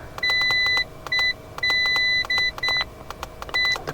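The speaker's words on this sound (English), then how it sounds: "The beep is incredibly annoying." An iCarsoft CR Pro OBD2 diagnostic tool emits a series of sharp electronic beeps in irregular short and long bursts, close and clear against a quiet background.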